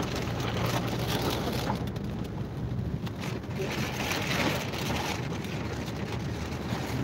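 Heavy rain pours down on a highway at Chityala, a dense, constant hiss with rushing wind and passing-traffic wash, loud and steady throughout.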